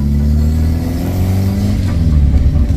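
A car engine revs hard in a steady, loud, close rumble throughout, as the driver tries a drift on a road in Caçapava, São Paulo, Brazil.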